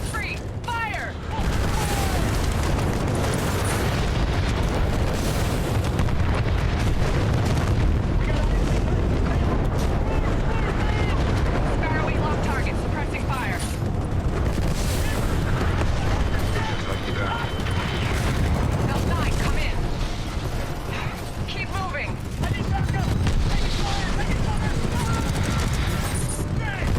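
Dense, continuous barrage of weapons fire and explosions in the Titanfall 2 game, loud and sustained throughout with booming impacts and mechanical clatter, with voices occasionally heard beneath the din.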